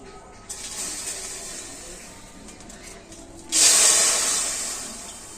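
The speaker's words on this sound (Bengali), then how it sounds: "এক বাটি জল আমি কড়াতে দিয়ে দেব" Water is poured from a bowl into a wok on a lit stove to start a sugar syrup, a low steady hiss that swells into a loud bright rush near the end.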